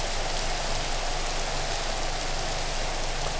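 Steady rain falling in a Minecraft game world, a dense even hiss of drops that holds loud and unbroken throughout with no voices.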